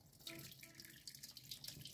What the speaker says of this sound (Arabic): نحطها في صينية ونضيف لها المية كده